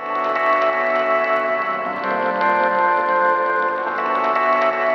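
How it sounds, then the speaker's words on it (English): A sustained, washy tone smeared by heavy echo and repeating delay, reverb feeding into delay, a dense ringing wall of sound with no voices. "in version one, we're going to have the reverb into the delay."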